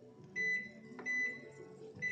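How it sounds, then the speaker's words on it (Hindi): Microwave oven beeping while preheating for an Oreo cake, three short, clear electronic beeps at steady intervals over a low background hum. "मैं केक को माइक्रोवेव में डालने से पहले इसको प्री हीट करूँगी"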